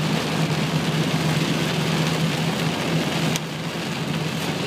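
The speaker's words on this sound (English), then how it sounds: "I love the rain." Steady rain drums on a car as it drives home in July, a dense constant hiss over a low engine hum, loud and close, with a slight drop in level near the end.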